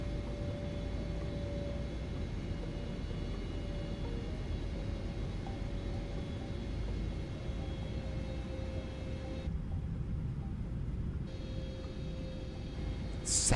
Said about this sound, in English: Sounds of this airplane are really pretty good.